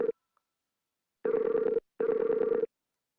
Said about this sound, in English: Ooh, yay, Skype ringing sounds.